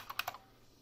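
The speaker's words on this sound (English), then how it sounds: "I think I'm gonna enjoy using this keyboard for typing stuff" Three quick clicky keystrokes on a Unicomp Ultra Classic buckling spring keyboard, close and crisp, bunched in the first third before fading to quiet room tone.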